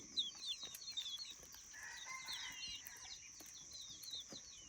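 Chickens cluck and a rooster crows at a village home. The clucks are soft and repeated over faint background ambience and a few distant knocks.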